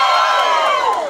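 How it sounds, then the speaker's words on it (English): A comedy show audience cheers and whoops loudly in a brief, bright burst of crowd noise that swells and then tails off within about a second. "And give me a cheer if you don't."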